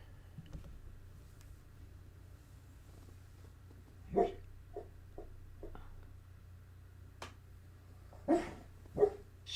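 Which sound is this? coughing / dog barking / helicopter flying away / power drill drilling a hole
dog barking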